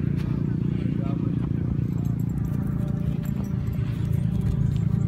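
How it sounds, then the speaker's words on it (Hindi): Horses at a horse fair in Indore, with hooves clip-clopping and stirring amid a dense, rumbling crowd din, while a person talks nearby throughout. "ये सबसे महंगे घोड़े हैं जो सबसे पीछे खड़े कर रखे हैं।"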